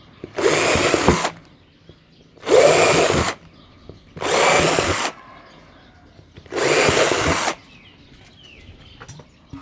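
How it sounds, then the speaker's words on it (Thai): A power drill whirs through wood in four separate bursts of about a second each, with short quiet pauses between, close and loud. "เจาะเพื่อให้เราสามารถสอด สอดใบเลื่อย เข้าไปได้นะครับ"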